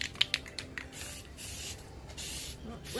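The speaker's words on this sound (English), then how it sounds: "So let's start spraying." Finish coat sprayed onto a wood table outdoors on a windy day, a steady broadband hiss lasting the whole stretch after a few short clicks at the start, close and fairly loud with no talking.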